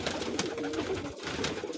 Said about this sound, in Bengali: দেখেন আমার কবুতরে আদার খায়